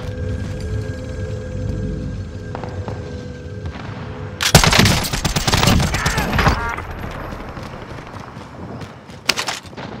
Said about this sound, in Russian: Я загрузчик 2-0, вас понял. Начинаю обстрел.